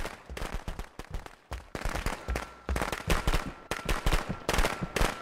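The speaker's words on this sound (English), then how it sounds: "Ah, fireworks." Fireworks in the video game Friday the 13th: The Game, a dense barrage of loud crackling bangs and pops in rapid irregular bursts, continuing throughout with brief pauses.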